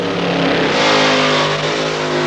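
A drag racing car at the Willowbank Winternationals drones loudly and steadily as it rolls along with the throttle backed off, a dense broad engine roar close up.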